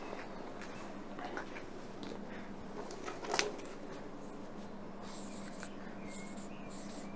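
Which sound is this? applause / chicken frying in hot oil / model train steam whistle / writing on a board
writing on a board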